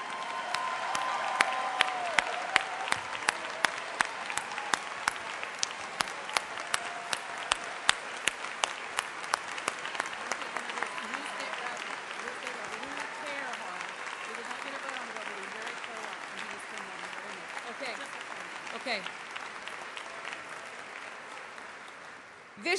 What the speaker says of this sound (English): Let's give God a hand of applause today.